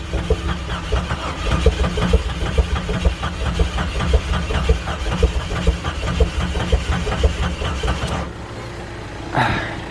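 An engine cranks over steadily after its negative battery cable was tightened, a loud, rhythmic starter churn repeating for about eight seconds before it stops with a brief clatter.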